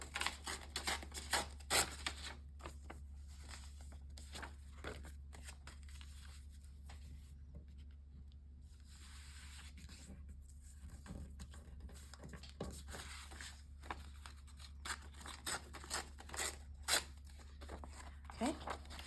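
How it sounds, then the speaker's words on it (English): Sheets of paper torn freehand for a handmade junk journal, a run of short crisp rips and rustles scattered through a low steady hum, close and moderately quiet. "So I'm just gonna tear, we're just gonna do some freehand tearing here."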